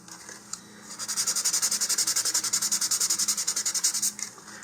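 Sanding to roughen the surface of a tube during a rocket assembly, a steady rhythmic back-and-forth rasp of about two dozen quick strokes, close and continuous for several seconds.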